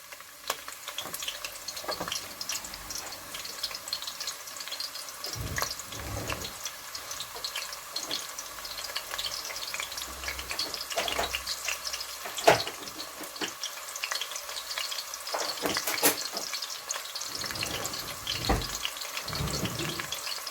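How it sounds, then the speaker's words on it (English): Onions, garlic and ginger fry in melted palm oil in a pot, a steady soft sizzle broken by scattered clacks and stirring scrapes, with occasional louder knocks. "now I'm gonna tip in my onions, garlic, ginger in there"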